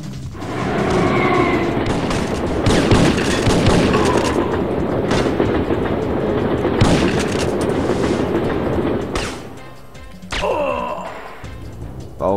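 Heavy gunfire and explosive booms from the video game Syphon Filter roll on continuously, dense and loud, then thin out near the end into scattered sharper sniper shots.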